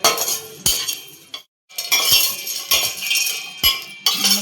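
Metal utensils clink and scrape against a pan while spices are dry-roasted for homemade kala masala, sharp repeated knocks over steady stirring, close and loud, with one brief silent gap.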